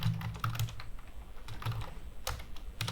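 Code is typed on a computer keyboard in fast, soft clicking runs close to the mic, over a faint steady background hum.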